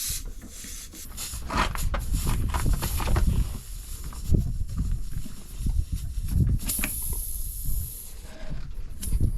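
A tyre repair reamer is worked back and forth in a puncture hole in a tubeless motorcycle tyre, giving a close, continuous rough rasping and rubbing with uneven surges and no talking.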